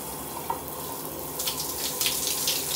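Cold water running from a Kohler shower valve, a steady rushing spray with small splashy bursts growing stronger toward the end, heard close and alone.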